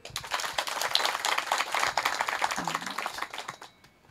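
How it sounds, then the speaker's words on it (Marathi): Women in the audience at a Marathi kirtan clap their hands together in a dense, rapid burst of applause that fades toward the end, with a voice briefly audible over it. "महिला मंडळ टाळी वाजवा एकदा."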